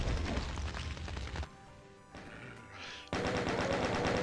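Rapid weapon fire in DOOM, aimed at a Revenant on the Shrine of Moss map, comes as dense, loud bursts. A long rattling volley is broken by a short, quieter lull before the shooting resumes just as hard.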